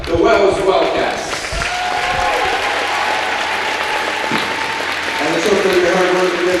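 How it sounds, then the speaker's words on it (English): A crowd applauds the runners-up, the Wells Wildcats, at a boys varsity basketball sectional final, sustained clapping filling the gym with a voice over a PA system coming through. "let's give a big round of applause to our runners-up, the Wells Wildcats"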